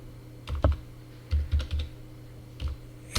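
Keys clack on a computer keyboard while a date is typed into accounting software, several short taps in uneven bursts, close and fairly crisp against a quiet room.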